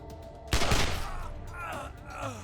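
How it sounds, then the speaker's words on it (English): Gunfire in the video game Wasteland 2, a sudden loud burst of shots that rings out and decays into a noisy tail while effects and a brief voice-like sound continue underneath. "I'm going to shoot this guy, though."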